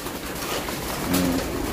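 Pigeons coo softly at feeding time, with one brief low coo rising over a steady, noisy outdoor background.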